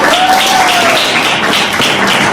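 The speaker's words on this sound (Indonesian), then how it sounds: "tepuk tangan semua" A class of schoolchildren applauds a classmate in a classroom, a dense, steady wash of clapping that stays loud throughout, with a brief whistle-like tone near the start.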